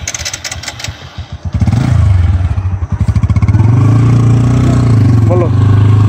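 A TVS Apache RTR 160 Race Edition motorcycle engine runs loud and close for most of the clip, its steady throb rising after a brief quieter start, with a voice speaking alongside early on.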